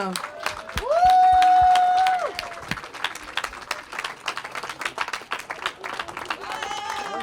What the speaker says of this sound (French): Applaudissements s'il vous plaît pour Nelly, Isabelle et Christine.